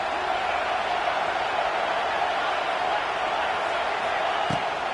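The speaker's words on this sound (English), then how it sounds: "Big third down as the crowd gets behind this defense." Stadium crowd roaring in a College Football 26 match between Minnesota and Washington, a steady, dense wash of cheering held at constant loudness, with faint commentary voices mixed underneath.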